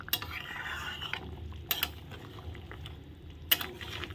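Fried fish heads are stirred in a pan with a spatula, scraping and clinking at intervals over a soft background sizzle, fairly close and without talk.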